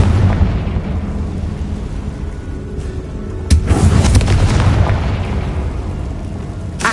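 A Confringo blast spell goes off in the PlayStation 5 game Hogwarts Legacy inside a tall room: a loud, sustained rumbling roar with a sharp burst partway through, echoing and booming without speech.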